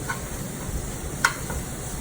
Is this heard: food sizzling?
yes